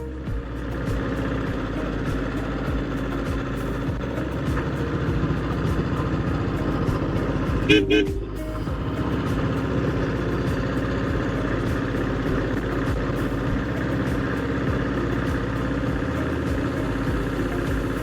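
A 1976 diesel Bullet motorcycle engine idles steadily and close up with a regular thumping pulse, holding an even level throughout apart from one brief louder clatter partway through.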